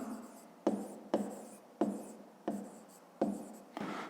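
Strokes of writing on a board, about six distinct scratchy bursts spaced roughly half a second apart in a steady rhythm, close and clear with no talking.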